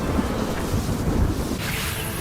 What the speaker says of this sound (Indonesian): penasihat Zhuge langsung mengeluarkan serangan tombak petir